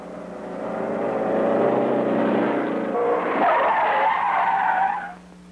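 A 1960s Suzuki vehicle revs hard during a factory noise test on a test track, its engine note sustained and loud with a rising, squealing tone that drops away sharply at the end.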